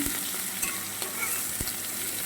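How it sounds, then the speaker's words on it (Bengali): Eggplant and lentil dumplings (bori) fry in a pan, a steady close sizzle with a few sharp stirring scrapes and clicks running through it, no voices present. "বেগুন আর বড়ি প্রায় ভাজা হয়ে এসেছে আমার"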